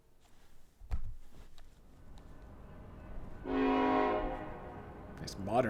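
A modern train horn sounds from a railway hauling snow loads, a sustained tonal blast of about half a second after scattered quieter noises and brief speech-like sounds, with a short rising tone at the very end.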